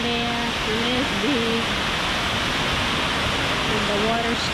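Mag Aso waterfall on Negros island, a constant broadband rush of falling water filling the scene, with a person talking briefly at the start and end.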